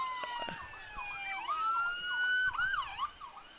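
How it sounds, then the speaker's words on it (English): Several police car sirens wail at once in a parade, their pitches sweeping up and down in overlapping cycles, loud and close with a low rumble beneath. "I can just see Tad's equipment blowing up in there with these sirens"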